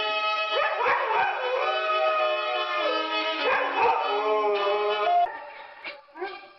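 A dog yips, howls and whimpers in rising, pitched bursts mixed together with a sustained violin line, both loud and close, with a quieter dog-like tail at the end.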